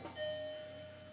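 A doorbell rings in the background of a room where a Hornby Class 31 diesel model train set is running, a steady tone held behind a faint mechanical ticking, fading out after about a second.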